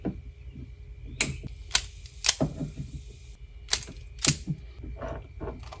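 Sharp snips of wire cutters through wiring during an LED turn signal hyperflash fix, several crisp clicks spaced irregularly, close over low background hum.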